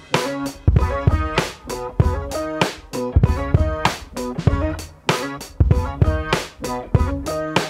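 Layered electric guitar tracks, a clean DI part stacked with the original guitar, play a melodic idea over a punchy drum beat with steady hits, loud and full with no talking.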